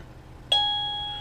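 A PLACUY budget video doorbell sounds a single bright electronic chime, a clear two-tone ring that lingers and slowly fades in a quiet room.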